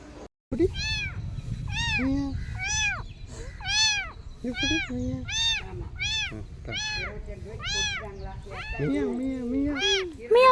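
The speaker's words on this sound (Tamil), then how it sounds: "பூனையா என்னன்னு தெரியல, ஊன்ட்டு கூப்பிட்டே இருக்குது" Cat meowing repeatedly, a series of distinct rising-and-falling calls about once a second, close and fairly loud, with background rumble and a brief human voice near the end, outside a temple.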